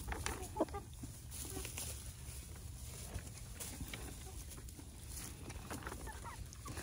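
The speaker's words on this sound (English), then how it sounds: "All of those new little white baby chicks that we got." New little white baby chicks cheep and peep in a small flock, a soft, busy chatter of overlapping chirps heard at moderate distance without pause.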